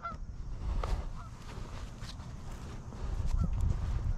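Canada geese honk repeatedly from a pond during a goose hunt in West Virginia, with scattered calls at moderate distance over low outdoor rumble.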